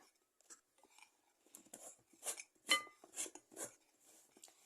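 Homemade slime being stirred in a bowl, giving soft scraping and clinking taps of a utensil against the bowl in irregular bursts, close and fairly quiet, with no talking.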